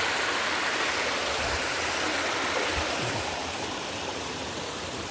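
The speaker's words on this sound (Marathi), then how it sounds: "आमची नदी आहे खूप मोठी नदी आहे" A large river in the Sahyadri hills of Konkan flows with a steady, continuous rushing hiss, loud and close, with no voices over it.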